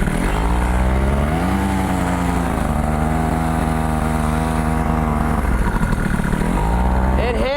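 A paramotor engine powering a homemade motorcycle runs steadily and loud throughout, a buzzing two-stroke drone that rises slightly in pitch early on and again near the end, close and continuous.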